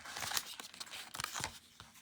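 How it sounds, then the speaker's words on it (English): Paper snips cutting through a gold foil adhesive sheet, a few crisp close crunching snips with papery rustle between them, alone and fairly quiet. "So we're just going to cut it there"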